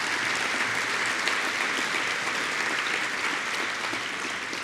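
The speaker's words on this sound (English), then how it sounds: "one last round of applause for everybody for the work they so ably performed" An audience at a 2022 State of the City address gives a round of applause, dense and sustained clapping that fills the room evenly from start to finish without any speech.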